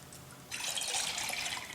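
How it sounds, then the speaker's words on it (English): Copper red glaze poured into a ceramic bowl, a quiet close liquid rush that starts suddenly after a moment of near silence and keeps flowing as a steady hissing pour. "first I will just pour in the copper red glaze"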